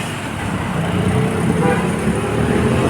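Road traffic flowing steadily along Quezon Boulevard in Quiapo, a continuous wash of passing cars, buses and trucks with an occasional horn toot, fairly close and loud.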